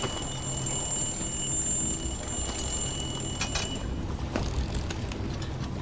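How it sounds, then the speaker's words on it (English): An alarm sounds in the Dishonored 2 video game, a steady high-pitched ringing tone running continuously beneath game ambience and a few mechanical clicks and clanks. "Didn't mean to set the alarm."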